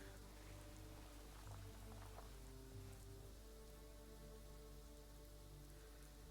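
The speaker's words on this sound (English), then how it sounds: "really annoying rain" Steady rainfall in the video game Prehistoric Kingdom, a constant hiss of drops pattering on surfaces with a low continuous rumble beneath, even and unbroken throughout with no voices.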